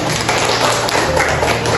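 Steady applause from a group of adults clapping together at a special-needs school sharing session, continuous and fairly loud throughout.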